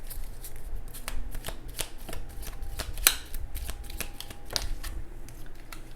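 Deck of tarot cards riffled and shuffled up close, a steady run of crisp flicking snaps with a few sharper slaps, fairly quiet and without talk.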